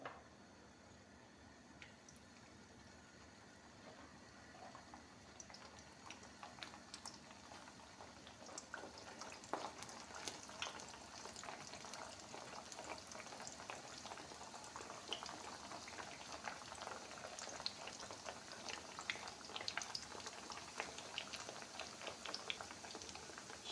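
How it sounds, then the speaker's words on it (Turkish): Pieces of pişi dough fry in hot oil, giving a quiet, continuous bubbling sizzle with scattered crackles and pops that grow denser and livelier as it goes on. "Yağım ısındı. Hemen böyle pişilerimi ilave ediyorum."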